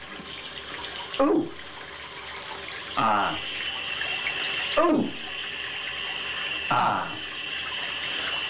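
Water runs steadily from a faucet while a man repeatedly exclaims in short voiced bursts over the flow.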